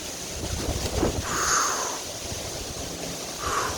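Strong hurricane wind from Hurricane Helene sweeping through a wooded area in Marion, western North Carolina, a steady, loud broadband roar that swells in gusts, with no talking.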